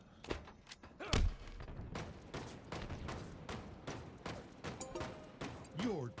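Gunfire in a Halo game: a rapid scatter of close and distant shots and thuds in irregular bursts, with a voice speaking over the fight.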